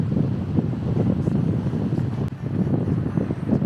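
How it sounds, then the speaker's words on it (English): Steady wind buffeting a microphone outdoors near a seaside village museum, a continuous low rumbling roar with gusty swells and no speech. "it's very windy"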